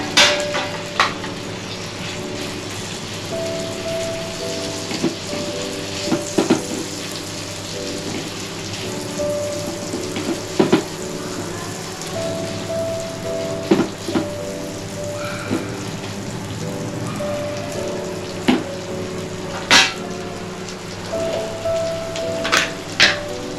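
Vegetable filling for a Surat-style raja rani paratha sautés in butter on a hot griddle, a steady rain-like sizzle with occasional louder crackles and scraping stirs, close and continuous with no talk.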